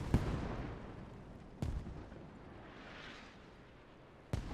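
Mortar barrage in the Squad video game: three sharp, loud impacts spaced a second or more apart, each followed by a rumbling decay, with distant battle noise between them.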